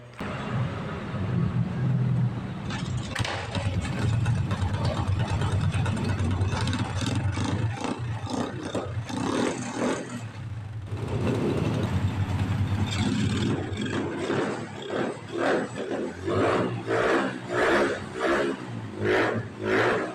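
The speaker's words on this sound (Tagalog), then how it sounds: "Kaya testingin na po natin kung aandar na siya ng matino." Honda Wave 100 motorcycle engine started and running after electrical repair, a close, loud putter that revs up, settles to a steady run, then pulses through a series of rhythmic throttle blips toward the end, without talk.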